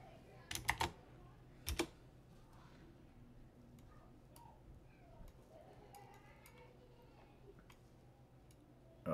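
A computer keyboard is typed on in brief, scattered clicks during a futures-trading session, quiet and close, with a few louder taps near the start.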